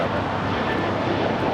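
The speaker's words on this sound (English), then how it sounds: "This is JetBlue 492 taking off to Buffalo on the A220-300." A JetBlue Airbus A220-300 taking off at LAX sends out a loud, dense engine roar that holds steady through a brief burst with no pause.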